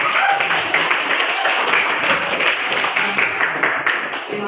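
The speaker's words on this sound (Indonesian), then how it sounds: "Kalau gitu kita kasih aplaus untuk kelompok satu" Classroom applause for the first presentation group, a steady patter of many hands clapping together for several seconds at moderate loudness.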